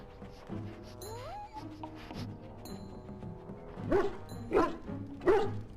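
A dog in the video game Dragon Age Origins whines and whimpers, then gives several sharp yipping barks at close range over a low game hum, no talking.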